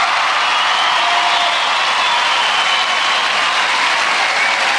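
A large arena crowd at a 1997 UK Gladiators heat applauds a contestant with steady, loud, dense clapping and cheering that fills the space without a break.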